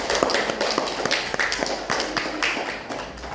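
A classroom group claps for themselves, a fairly close flurry of uneven hand claps with distinct sharp slaps standing out from the rest, tapering slightly toward the end.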